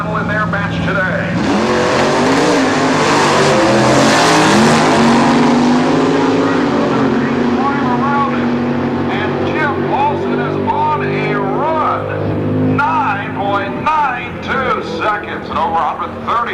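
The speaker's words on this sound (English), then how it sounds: "a great top-end charge from probably some of the most unaerodynamic race cars ever designed" Super stock drag race cars launch down the strip at a 1998 reunion at Norwalk Raceway Park, their engines roaring loud and sustained. The pitch climbs through the run as a commentator talks over the noise.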